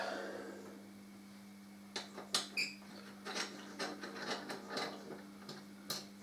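Metal tool clicks and ratcheting ticks come from work on a brake caliper bolt of a Harley Davidson Deuce trike, a quiet, uneven run of short close sounds after a near-silent start, with no talking.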